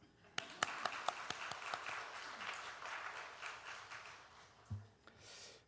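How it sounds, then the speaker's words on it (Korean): A church congregation breaks into applause during a Sunday worship service, starting with a few distinct claps that swell into a soft, distant patter and then fade. "박수를 크게 칩시다."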